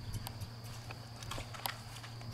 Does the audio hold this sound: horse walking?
yes